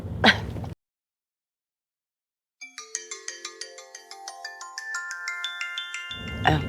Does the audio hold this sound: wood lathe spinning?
no